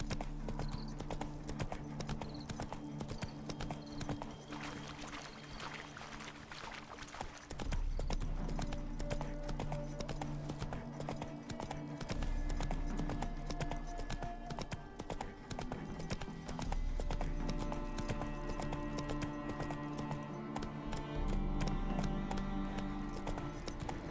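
Steady clip-clop of a horse's hooves at a walk in The Witcher 3: Hearts of Stone, continuous and fairly close, with ambient game-like background tones beneath.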